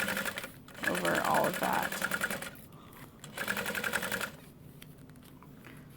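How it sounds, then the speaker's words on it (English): A sewing machine top stitches through the layered seam allowance of a pieced tote bag, running in two steady rapid bursts separated by a pause, with someone talking over the motor. "you're top stitching through the seam allowance"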